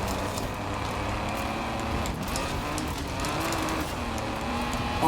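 An Acura NSX race car engine in the video game Forza Horizon 4 gives a continuous, steady, dense roar throughout a race, with no talking.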